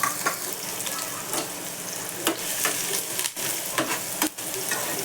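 Chopped onion frying in hot oil in a pan, a steady dense sizzle running throughout with a few brief scraping stirs and clinks, fairly close and alone.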